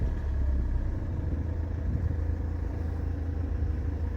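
Engine of a 2011 Ford Kuga with about 69,000 km starting by push button and settling into a steady low idle rumble, close and continuous with no talk over it.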